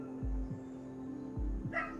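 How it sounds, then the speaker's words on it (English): Dogs at home and across a street bark in a few low, thudding woofs spaced apart, somewhat distant and muffled beneath a steady hum, followed by a brief higher yip. "Enjoy the song that my dogs are singing and the dogs across the street"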